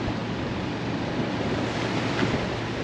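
Steady, strong wind roars across the microphone with a constant rushing noise, likely near open water, with no voices, on an ocean beach.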